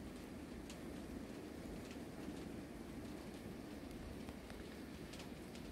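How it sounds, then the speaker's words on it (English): Rain falls steadily during Australian bushfires, a continuous even hiss of downpour with no breaks, fairly faint and with no voices. "It's starting raining."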